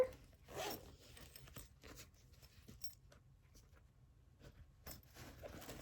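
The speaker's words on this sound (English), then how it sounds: "So you see we have a zipper." Quiet, close-up zipper pulls on a fabric pouch, a few short rasping zips with small handling rustles between them.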